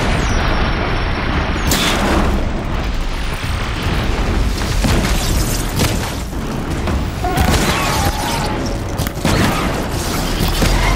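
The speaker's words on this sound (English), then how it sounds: "There goes the explosion." In Horizon Zero Dawn on PS4 Pro, a loud in-game explosion booms out, followed by sustained roaring rumble and crackling debris that stays heavy for several seconds before thinning slightly near the end.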